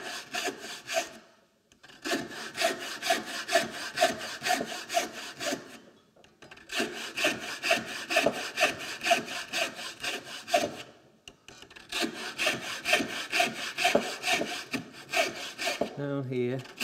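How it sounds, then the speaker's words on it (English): A hand saw cutting across the grain of wood clamped in a vise while carving a wooden scoop, close rhythmic rasping strokes in three long bursts separated by short pauses. "put this in the vise, take some cuts across the grain here."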